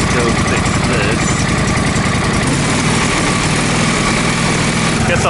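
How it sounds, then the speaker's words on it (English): A small engine idles too fast, at about 2400 RPM, in a loud, close, rapid steady putter with dense harmonic buzz and vibration that runs throughout. "we'll leave that idling here for a few minutes."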